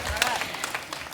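Audience applause at a Hindi poetry recital, a burst of dense clapping from a crowd heard close and steady throughout.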